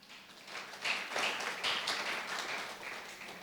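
Congregation applauding during a church worship service, a steady wash of many hands clapping at moderate distance for a few seconds with no voices over it.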